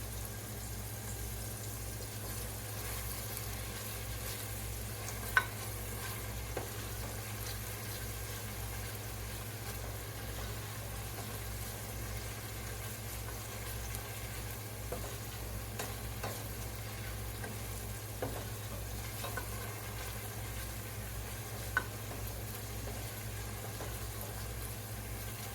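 Onions and garlic fry in a pan with a faint, continuous sizzle and a few soft clicks over a low steady hum.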